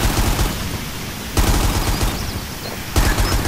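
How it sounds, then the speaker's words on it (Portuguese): Sustained automatic gunfire in GTA San Andreas on a small-town street, loud and continuous with fresh bursts kicking in twice; no talk. "Vamos atirar no povo aí, ó."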